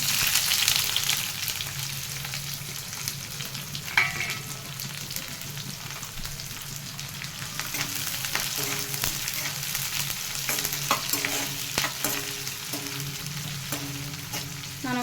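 Chopped onion fries in hot oil with tempering spices for a potato green chilli fry, a steady close sizzle with occasional stirring scrapes and clinks of a spoon against the pan.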